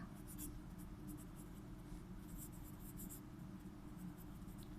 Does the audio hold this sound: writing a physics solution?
yes